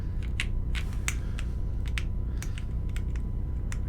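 Typing on a steel IDB60 mechanical keyboard produces a quick, uneven run of close, crisp key clacks, sounding alone over a faint low hum.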